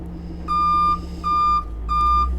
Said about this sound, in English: We've got the backup lights as well as the backup alarm.